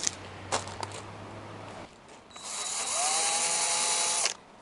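Brief clicks and handling noises, then a power drill sanding a car headlight whirs up and runs steadily at a high pitch on its lowest speed before cutting off.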